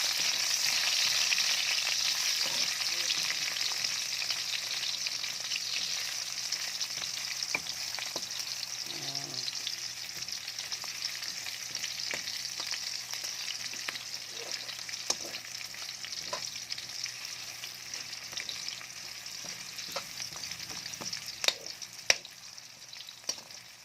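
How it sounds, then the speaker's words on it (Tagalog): Onion and garlic fry steadily in a pan for a dish of coconut-braised bamboo shoots, a constant bright sizzle with occasional stirring clicks and scrapes, fairly quiet and with no voices. "naluto na ating sibuyas at bawang."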